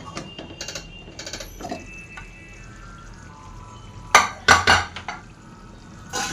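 A metal pressure cooker lid is worked open, with light taps and rattles followed by a few loud sharp metallic clanks close by, then quiet.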